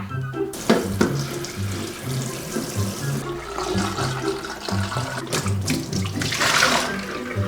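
Water from a tap runs steadily and loudly while rinsing the removable parts of a UWANT D500 PRO floor washer, splashing and gurgling over plastic components throughout.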